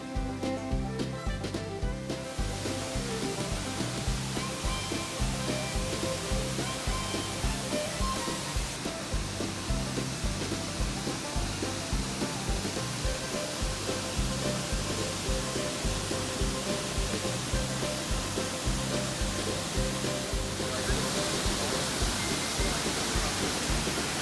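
Greeter Falls in Savage Gulf, Tennessee: a steady, dense roar of falling water, loud and unbroken throughout, with no voices.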